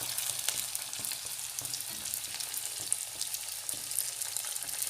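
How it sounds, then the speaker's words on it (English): Steady crackling sizzle of chicken spring rolls deep frying in very hot oil, close by, with small pops scattered through a continuous bubbling hiss. "So friends, now I am deep frying spring rolls."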